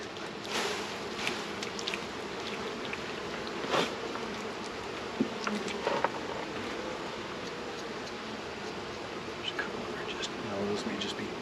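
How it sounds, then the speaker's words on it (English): Honey bees swarm around a strong, crowded hive during a honey harvest, a steady diffuse buzz with occasional louder passes near the ear and faint handling clicks, under quiet talk. "So many bees on this. This hive's so strong."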